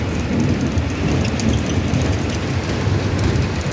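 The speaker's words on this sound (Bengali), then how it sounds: "আরে কি বৃষ্টি রে আল্লাহ" Heavy rain pouring down in a dense, continuous roar with a low rumbling undertone, loud and close throughout.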